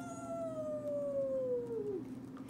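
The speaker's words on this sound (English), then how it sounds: "The coyote in the prairie howls at night" A coyote howl on the prairie at night, a single long, drawn-out wavering cry that slowly falls in pitch and fades, heard alone over a soft steady background.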